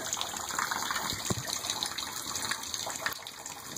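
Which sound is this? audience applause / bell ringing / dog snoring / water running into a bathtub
water running into a bathtub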